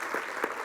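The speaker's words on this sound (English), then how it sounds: "Jeff, give Jeff a round of applause," Short stretch of audience applause at a corporate speaking event, a steady wash of many hands clapping at moderate volume.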